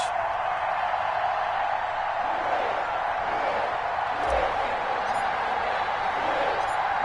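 Stadium crowd noise from Madden 21 ahead of a Browns versus Bengals game, a steady, dense roar of many voices holding at an even level throughout with no clear peaks.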